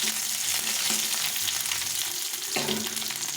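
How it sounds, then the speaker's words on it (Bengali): Garlic cloves sizzle in hot oil, a dense close crackle that runs throughout, with a brief utensil knock partway through and no speech. "এই দু তিনটে রসুনের কোয়া সেটা করে নিয়েছি এটাও দিয়ে দিলাম"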